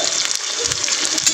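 Prawns frying in a pan with onion and green chilli, a close, steady hiss of sizzling oil with small crackles over a short stretch.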